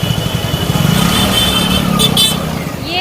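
A motorbike engine rumbles steadily up close while riding through Mathura, with a horn-like toot near the end and traffic noise around it.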